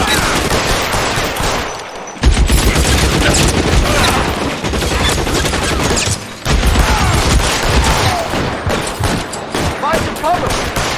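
Rapid, dense gunfire in the video game L.A. Noire, a loud continuous fusillade of shots that pauses briefly twice before resuming, with shouting voices mixed in.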